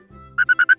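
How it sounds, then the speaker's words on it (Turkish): A frog croaks close by in a quick run of four short, evenly spaced chirping pulses over a low hum, each loud and clear. "Kurbağa."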